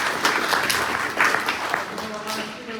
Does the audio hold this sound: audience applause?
yes